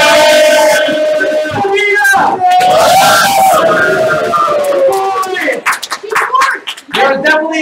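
Live game show audience cheering and whooping loudly, with yells and some clapping, a sustained roar that breaks into choppier shouts near the end.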